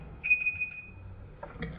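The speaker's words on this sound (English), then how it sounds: "oh, that's my alarm." An alarm beeps in a steady high tone for about a second, moderately loud in a quiet room, then briefly sounds again with a short faint blip.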